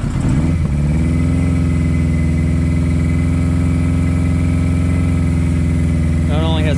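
A 1981 Suzuki GS1000GL motorcycle engine running steadily at a loud, even idle throughout, with a brief voice near the end.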